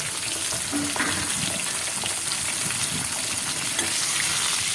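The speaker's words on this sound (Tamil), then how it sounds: "ஒரு அஞ்சு நிமிஷங்க நல்லா பொறிச்சு எடுத்துடலாம்" Large-cut tindora (ivy gourd) fries in hot oil for an Andhra-style thokku, giving a loud, continuous, dense crackling sizzle close up with no pauses.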